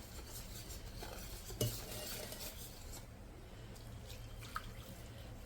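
A utensil stirs and scrapes through wet jaggery fritter batter in a bowl, soft repeated swishing with a couple of sharp clinks against the side.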